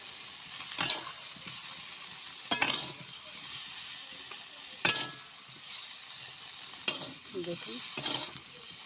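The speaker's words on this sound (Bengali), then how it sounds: "এটা শীতের টাটকা সবজি ভাজা চলছে।" Fresh winter vegetables and cauliflower fry in hot oil while being stirred, a steady soft sizzle broken by a few sharp scrapes of the spoon against the pan. A brief word is spoken partway through.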